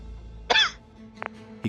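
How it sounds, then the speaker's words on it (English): A man gives one short, sharp cough, then a faint throat-clearing sound and a small click, close and alone in an otherwise quiet space. "He coughs a bit"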